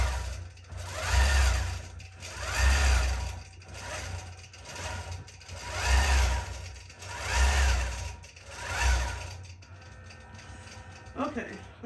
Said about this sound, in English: I'm going to let it finish stitching the last 2 rows of the scales